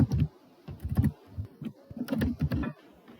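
Several keystrokes on a computer keyboard, close and distinct, come in two short uneven bursts with a pause between them, ending in a final key press.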